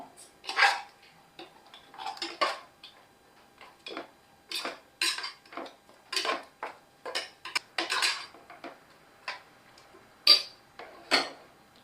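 A spoon stirs yogurt and ginger paste into mutton biryani masala in a pot, Vaniyambadi style, making repeated close metallic clinks and scrapes in an uneven rhythm against a quiet background, with no talk.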